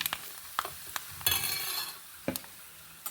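Mustard seeds sputter in hot oil in a pan for tempering, a close crackling sizzle with a spoon stirring and sharp clinks against the pan at intervals, no one speaking.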